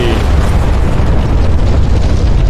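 A missile explosion in the DCS World flight simulator, heard as a loud, sustained low rumbling boom that fills the whole moment with dense noise and no voices.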